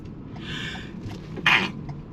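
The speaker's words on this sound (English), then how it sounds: "I'm about to sneeze." A single sharp sneeze bursts out near the mic partway through, following a softer breathy build-up, heard by someone working on a handyman repair of an outlet with no power.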